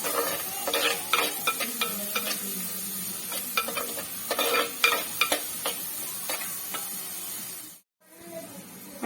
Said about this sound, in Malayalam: നീളത്തിൽ കീറിയതാ പച്ചമുളക് ഉള്ളി കൊച്ചറുതായിട്ട് കീറിയത് ഇതൊന്ന് വഴന്ന് വരട്ടെ